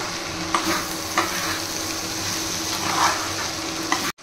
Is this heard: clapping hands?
no